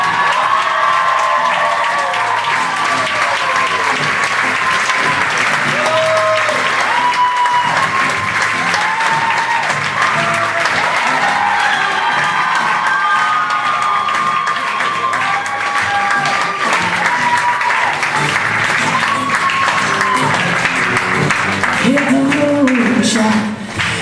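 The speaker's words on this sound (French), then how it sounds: "J'aimerais qu'on applaudisse, qu'on accueille chaleureusement la gang de jeunes de ce moment spectacle" Long, loud audience applause with cheering and shouts welcoming a group of young performers at a show, sustained for over twenty seconds with voices and whoops riding over the clapping.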